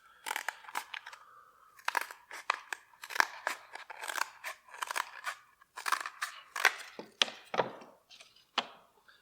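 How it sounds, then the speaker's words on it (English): Scissors snip repeatedly through a plastic cup, cutting opposite the first cut to form a U-shaped half pipe; a close, irregular series of sharp crunching cuts, loud and alone. "then you want to cut through exactly opposite where you cut before to make that half pipe"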